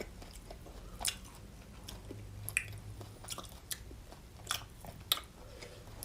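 Chewing on Korean chadolbaegi, thin-sliced beef brisket, at a meal with doenjang stew and jjolmyeon: soft close-up bites and squishy mouth sounds come at irregular intervals over about six seconds, with a few sharper crunchy peaks and no talking.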